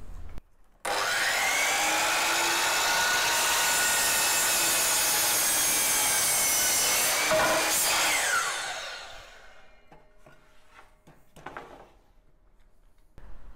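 Steady back-and-forth rasping of a handsaw cutting through a wooden board for a scarf joint, loud and continuous for several seconds before the strokes slow and fade into quiet shuffling and a few light knocks.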